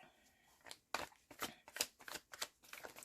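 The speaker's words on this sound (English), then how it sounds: "get into my zone here and start shuffling" Tarot cards are shuffled close up, producing a quick, quiet run of crisp papery flicks and slaps in an uneven rhythm, with no talking.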